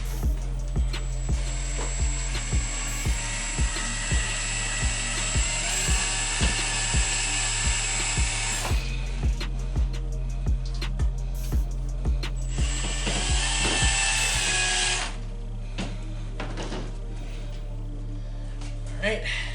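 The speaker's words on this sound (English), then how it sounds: "we're gonna add the screws so that it doesn't move" Screws being driven to fix an LED light onto a Ryker fender: rapid ratcheting clicks under a steady whirring tool sound that pauses midway and resumes, with people talking throughout.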